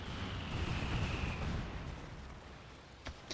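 Fragmentation artillery strike in a horde defense video game, a loud rumbling burst of blasts fading into a lingering roar, then a couple of sharp distant pops near the end.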